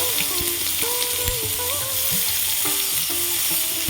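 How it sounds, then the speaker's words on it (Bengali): Whole cumin and chopped onion sizzle in hot oil left from frying puti fish, a continuous crackling hiss with faint melodic tones running underneath. "ওই তেলের মধ্যে আমি গোটা জিরে ফোড়ন দেব পেঁয়াজ কুচি দেব"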